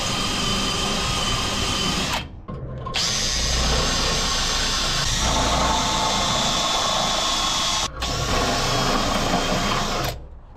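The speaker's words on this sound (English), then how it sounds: "So I just got all of the left side drilled out." A power drill bores out spot welds on a 1992–95 Honda Civic radiator core support, running in long, loud, steady whining bursts with two brief pauses between them.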